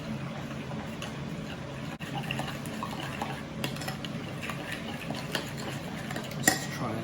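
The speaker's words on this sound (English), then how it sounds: "Give that a stir." A spoon stirs a fried chicken seasoning mix with cayenne pepper in a bowl, giving soft scraping and light clinks against the dish, with faint talk in the background.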